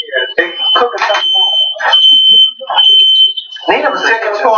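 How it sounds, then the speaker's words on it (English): A smoke detector sounds a continuous high shrill tone under loud overlapping conversation, holding steady for several seconds before cutting out as the talk carries on. "at least y'all know the smoke detector's working"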